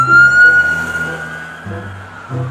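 A toy ambulance plays an electronic siren, loud and close, with a high steady tone over lower warbling notes that shift pitch in a repeating pattern.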